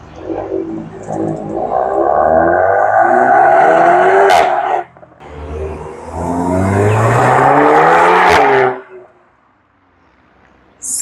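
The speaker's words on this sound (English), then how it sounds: "Love the performance exhaust" A 2025 Audi S3 8Y with a performance exhaust revs hard twice in quick succession, each climb swelling loud and close before cutting off, with a brief lull between them and near silence at the end.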